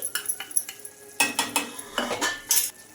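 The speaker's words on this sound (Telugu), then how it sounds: "బాగా కలిపేసుకొని ఈ పోపుని అయితే ఇందులోకి అయితే వేసుకోవాలి" A spoon stirs tempering into a spinach and onion-chili curry in a metal pan, giving a rapid series of close scraping clinks and taps against the pan, with brief pauses between bursts and no talking.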